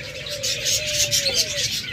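Lutino cockatiels call from close by in a short run of chirping, repeated notes over a low steady hum.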